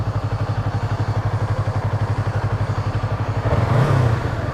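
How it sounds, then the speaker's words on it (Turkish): A Yamaha R25 motorcycle engine running loud and close with a steady pulsing idle that briefly rises and stumbles near the end as it sputters, no talking over it. "E tekledi la motor."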